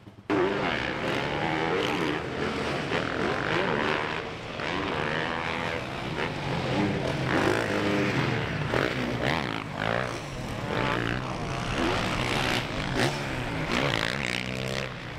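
MX1 motocross bikes lap a rutted dirt track during timed practice, their engines snarling and revving in a steady, dense roar with rising and falling passes and no clear pauses.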